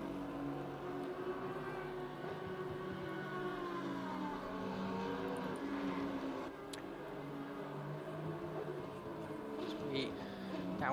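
A race car engine drones steadily and close throughout an Assetto Corsa Competizione league race, pitch rising and falling through gear changes, while a commentator talks over it.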